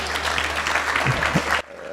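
Dinner guests at a school anniversary reunion clap to acknowledge the principal, a broad wash of applause with faint voices mixed in, then it cuts off abruptly near the end.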